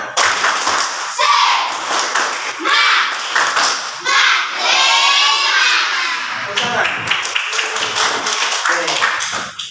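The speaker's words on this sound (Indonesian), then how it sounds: "mana tepuk tangannya dulu? Tepuk semangat." A classroom group claps hands in a rhythmic pattern, loud and close, in bursts of quick claps mixed with voices chanting and calling out together.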